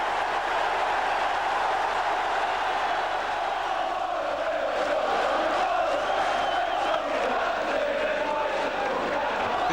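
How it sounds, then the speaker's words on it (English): Football crowd at Ayresome Park, Middlesbrough, cheering and roaring during a First Division season, a broad, sustained wall of voices with swelling shouts, heard from within the stadium. "The Ayresome Park crowd revelling in the return of First Division football here this season"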